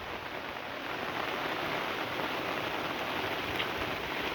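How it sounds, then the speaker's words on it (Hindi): Heavy monsoon rain pours steadily in the hills of Uttarakhand, a dense, unbroken hiss of downpour on surfaces that stays loud and even throughout, with no voices. "बरसात का उत्तराखंड में"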